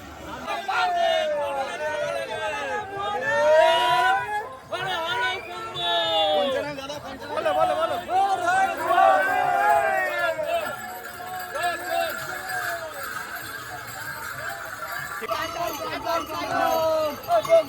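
A dense crowd of pilgrims on the Tarakeswar yatra, with many overlapping voices chattering and calling out, a few shouts rising above the steady hubbub throughout.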